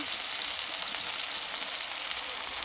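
Spice masala of salt, turmeric and cumin powder sizzles and fries steadily in a pan, with a constant close hiss and faint stirring scrapes and no voices.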